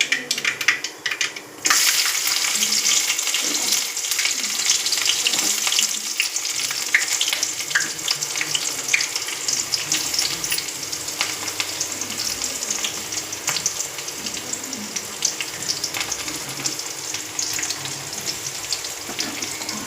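Mustard seeds and cumin crackling in hot oil, a dense, steady sizzle with scattered pops that carries on loud and close for the whole stretch.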